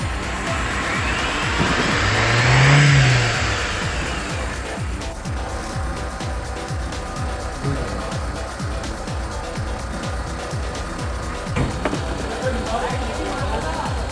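An old Mitsubishi Lancer engine revving in a workshop, its throaty surge swelling to a loud peak near the start before settling into a steady idle rumble, with people talking nearby throughout.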